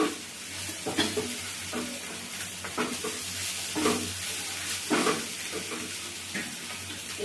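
Bread-coated fish frying in a pan, a steady sizzle punctuated by repeated scraping and clinking of a utensil against the pan at an uneven rhythm, close and moderately quiet.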